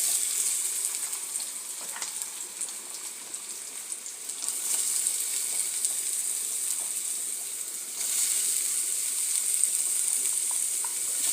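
Onions sizzle in oil in a pan for an egg curry, a bright, steady crackling fry that carries on throughout with a few soft stirring knocks.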